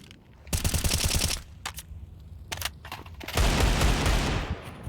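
Pistol fire rings out in a Counter-Strike match, NAVI against BIG, with Desert Eagles in the mix: a first volley of rapid cracks, a few isolated sharp shots, then a second dense burst, loud and close with no talking.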